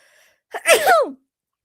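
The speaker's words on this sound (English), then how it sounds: "excuse me, I have to sneeze." A single close, sharp sneeze bursts out after a brief quiet pause, then silence.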